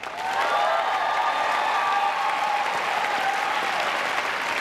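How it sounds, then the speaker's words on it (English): Audience applause at an ice dancing television show, sustained loud clapping with some cheering from the crowd over a sustained musical tone. "Ladies and gentlemen, keep that applause going for Trisha and Sasha."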